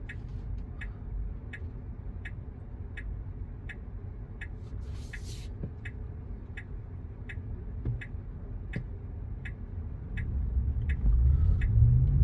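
A car's turn indicator ticks in a steady, evenly spaced rhythm during a driving test in Gregory Hills, Sydney. It sits over the low rumble of the moving car, and the engine and road noise swell toward the end.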